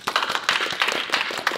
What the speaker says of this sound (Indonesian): Boleh dong tepuk tangan.